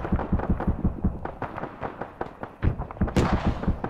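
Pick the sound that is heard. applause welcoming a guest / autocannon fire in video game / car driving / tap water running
autocannon fire in video game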